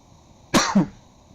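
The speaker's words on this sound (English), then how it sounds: "I'm still with a cough" Two quick, harsh coughs close together, loud and near, with quiet background before and after.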